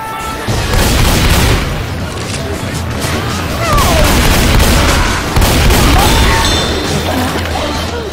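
Gunfire and explosions from the zombie shooter game Left 4 Dead 2 on the Hard Rain campaign, dense booming shots rolling loud and continuous for several seconds, with voices now and then.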